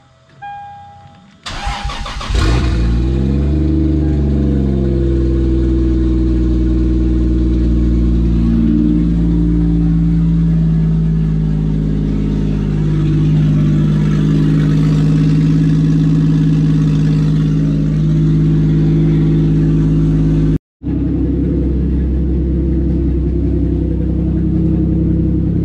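A Lexus IS300 engine cranks briefly, catches, and settles into a steady, loud idle that holds for a while before cutting out abruptly near the end.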